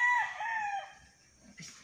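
A rooster gives a single loud, close crow that trails off, followed by faint clucking and rustle, with no voices.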